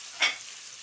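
Sausage and peppers sauté in a pan, a short faint sizzle with a single quick stir scrape lasting under a second, soft and close.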